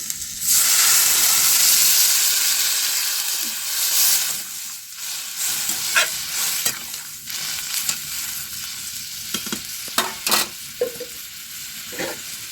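A loud hiss and sizzle as water goes into a hot pan of frying papaya and lentil curry. The burst is strongest at first, then settles into quieter bubbling with occasional stirring clatters.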